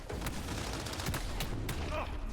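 Gunfire in the video game Cyberpunk 2077, rapid bursts of shots over a dense, continuous roar of combat noise, fairly loud throughout.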